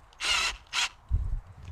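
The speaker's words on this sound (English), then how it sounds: "So for this job, we'll be using a step drill." Two short bursts of a power drill with a step drill bit whirring, followed by a low thump.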